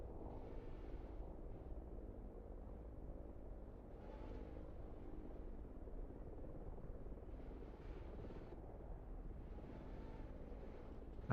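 A Mi-24 helicopter flies near Hama, heard as a faint, steady, distant rotor and engine rumble that holds level throughout with no speech.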